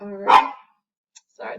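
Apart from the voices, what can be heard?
dog barking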